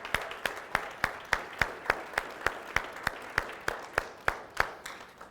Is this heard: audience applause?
yes